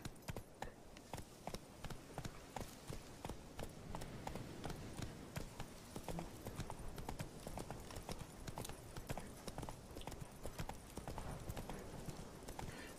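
Horse hooves clip-clop steadily in a video game, a continuous rhythmic patter of many quick hoofbeats at moderate loudness with no talking over them.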